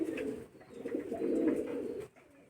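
Giribaz flying pigeons from Rajshahi coo close by in two deep, rolling bursts separated by a short pause, with a brief quiet at the end.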